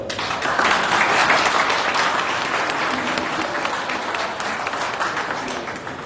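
Sustained audience applause at the inauguration of the Gare du Sud station in Les Cayes, a dense, steady wash of many hands clapping throughout with a faint murmur of voices underneath.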